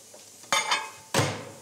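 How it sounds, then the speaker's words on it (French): Seasoned mushrooms are tossed in a sauté pan, giving two sharp scraping clatters of the pan over a soft background sizzle, close and without speech. "Alors, mes champignons sont assaisonnés. On les fait sauter."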